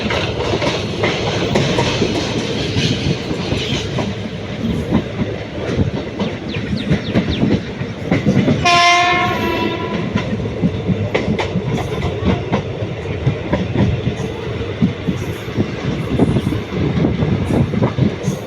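A passenger train runs fast on rails, with a loud, steady rumble and rapid clickety-clack from the wheels, and a brief tonal squeal or horn-like burst near the middle.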